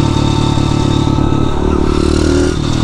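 A small road-legal Masai motorcycle, billed as the world's smallest, being ridden with a close, steady engine drone that holds an even pitch for the whole stretch, with no talking.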